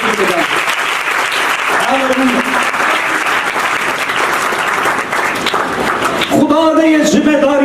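Loud, sustained applause fills a church hall during a Christian sermon, with a voice speaking over the clapping and rising again at the end.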